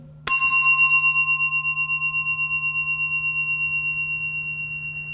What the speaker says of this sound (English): Oh, there's a sound of the bell coming.